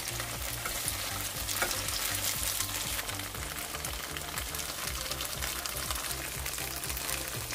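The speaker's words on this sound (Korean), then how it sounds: "팬에 들기름 2큰술을 두르고 두부를 중불에서 노릇하게 구워주세요." Tofu fries in perilla oil in a pan over medium heat, giving a soft, continuous crackling sizzle with light stirring scrapes and no voices.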